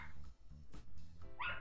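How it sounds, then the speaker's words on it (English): Dogs, including a new puppy, bark in the background of a quiet room, a few short yips and barks, the clearest one near the end, faint and somewhat distant. "Sorry about the dogs in the background."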